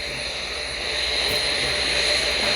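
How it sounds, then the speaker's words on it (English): Artemis rocket launch: the booster ignites and the vehicle lifts off, a broad, sustained roar with a hissing, rushing texture that swells slightly in loudness as it continues, heard from a distance with no talk over it. "Booster ignition. And liftoff."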